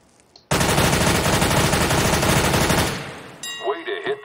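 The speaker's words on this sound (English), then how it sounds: "Pick up that weapon and unload the clip into the target" Sustained automatic gunfire in CS:GO pours out in a dense, loud burst for about two and a half seconds, aimed at a large wooden target, then cuts off into brief game interface tones.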